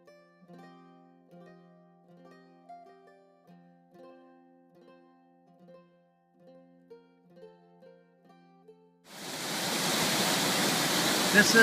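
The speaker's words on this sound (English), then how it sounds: "This is the headwaters of the Jordan River that flow out from underneath this rock at Caesarea Philippi" Water of the Jordan River headwaters rushing out from beneath rock at Caesarea Philippi, a loud steady roar that starts abruptly after a stretch of soft music.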